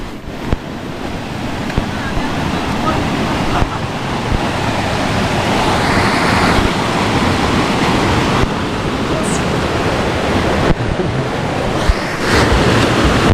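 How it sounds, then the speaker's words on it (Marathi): A river swollen after heavy rain in a Konkan village rushes past in a loud, continuous broadband roar, close and steady, with wind buffeting the microphone now and then. "मी आता नदी आले आणि बघा नदीला पाणी बघा किती वाढलं जो काल पाऊस पडला ना तर पाणी बघा किती वाढलं नदीला"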